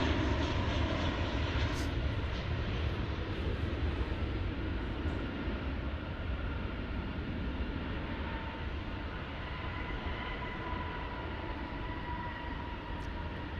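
Embraer E175 regional jets roll and fly at DFW airport at night, a broad steady engine roar held at a distance for the whole stretch with a faint whining hum drifting above it.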